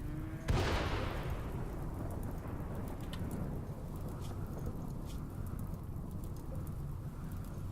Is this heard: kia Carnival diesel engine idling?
no